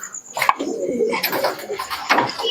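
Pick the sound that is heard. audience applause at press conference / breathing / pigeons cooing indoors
pigeons cooing indoors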